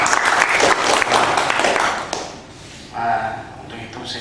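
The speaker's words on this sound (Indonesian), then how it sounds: "Untuk itu kita tepuk tangan 2 kali lagi." A community gathering claps together, with a burst of dense hand clapping that fades after about two seconds, followed by quieter room noise and a short tonal sound near the end.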